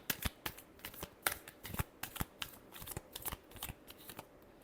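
Tarot cards being shuffled in a steady riffling run of quick papery flutters and taps, close and quiet, with no talking over it.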